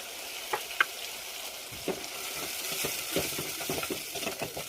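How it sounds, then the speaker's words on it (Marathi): Masala with yogurt sizzling in a pan for mushroom masala, a steady frying hiss with occasional sharp pops and stirring clicks, close and moderately loud with no talking. "दही घातल्यानंतर मसाला तेल सुटेपर्यंत व्यवस्थित शिजू द्यायचा आहे।"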